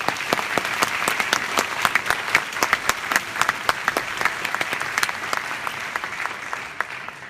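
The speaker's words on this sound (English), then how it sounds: "Let's give a big round of applause." A seated audience at a Stanford microbiome event gives sustained applause, a dense continuous patter of many hands with sharper individual claps standing out, holding steady for over seven seconds.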